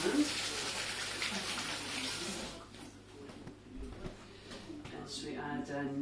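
Tap water runs steadily while hands are washed during scone baking, with a louder rush at first that then drops to quieter splashing and trickles.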